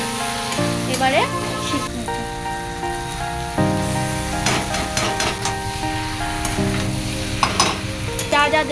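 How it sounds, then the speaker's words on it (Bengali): Pumpkin and shrimp sautéing in a pan with chili, ginger and garlic give a steady sizzle with scraping stir strokes and occasional clatter, under soft background music. "দিয়ে এই যে দেখো ভালো করে কষিয়ে নিলাম"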